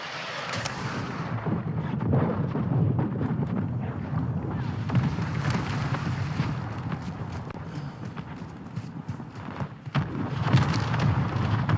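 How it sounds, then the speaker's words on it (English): Mortar strike explosions in a first-person shooter game, a long stretch of deep rumbling blasts and booming impacts with sharp cracks of gunfire scattered throughout, loud and continuous. "Hostile mortar strike incoming."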